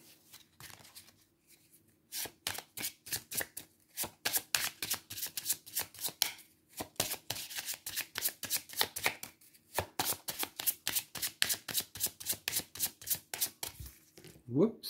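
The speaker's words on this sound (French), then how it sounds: "je vais vous tirer une carte de l'oracle" Oracle cards for a tarot-style reading are shuffled close up in quick, crisp riffling bursts that repeat in steady runs with brief pauses between them, and no talking is heard.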